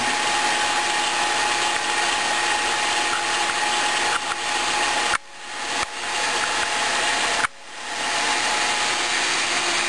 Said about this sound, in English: vacuum pump